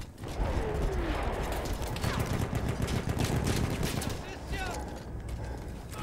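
Enemy gunfire in the Battlefield 1 campaign, with dense, sustained volleys and mechanical rattles that stay loud and steady for several seconds, mixed with other game noise.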